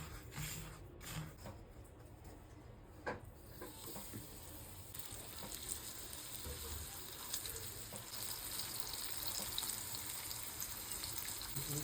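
Halwa fish coated in semolina and rice flour fries in a pan, a soft continuous sizzle with occasional pops and scrapes, moderately quiet and steady throughout, no voices.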